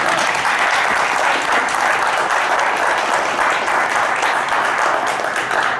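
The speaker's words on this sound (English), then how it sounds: "I just wanted to say thank you and clap for you right now, Mark." Loud, continuous applause from an audience at a discussion panel event, many people clapping densely and steadily throughout with no speech on top.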